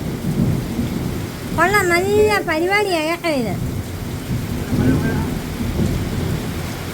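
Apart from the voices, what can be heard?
heavy rain with thunder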